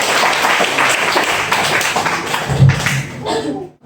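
An audience at an Islamic jurisprudence oral exam session claps together, a brisk close-up patter with a few heavier thumps near the end before cutting off abruptly.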